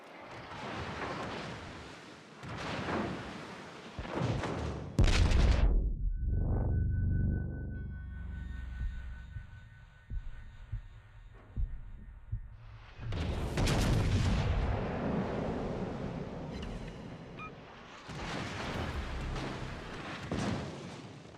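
Warship main guns fire in the naval game World of Warships: a few loud booms with long rumbling tails, spaced seconds apart and mixed with game effects such as a sonar-like tone and other blasts, no speech.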